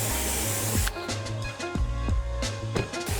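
A loud hissing pressure washer spray on a car runs steadily, broken by several short pulses and clicks as the jet shifts, close and continuous.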